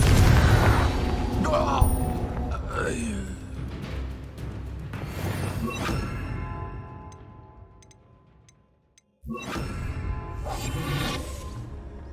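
A Confringo fire-blast spell goes off in the wizarding video game Hogwarts Legacy, with loud booming bursts and whooshes over dense game ambience, a brief drop to silence, then another burst of explosive noise.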